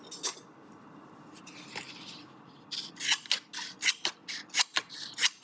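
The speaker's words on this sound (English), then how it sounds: "it'll cut through this paper really well too" Heavy-duty scissors cut through oak tag paper. A couple of isolated snips are followed by a quick, regular run of about ten crisp, close cutting strokes, with no speech.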